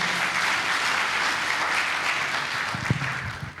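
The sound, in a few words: loud applause from workshop audience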